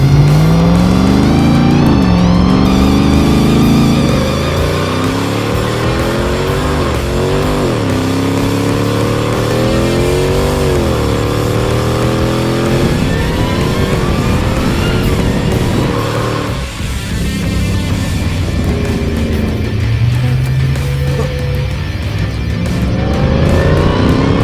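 A Hennessey Mammoth 1000 TRX pickup truck engine revs loudly and repeatedly off-road on grass, pitch rising and falling as it powers along, close and continuous with no talking.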